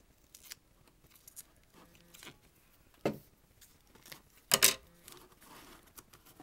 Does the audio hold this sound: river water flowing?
no